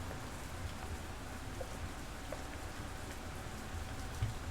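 Steady rain in a neon cyberpunk city within the Lovecraft 2077 video game, a soft continuous patter with scattered drops, heard alone with no voices.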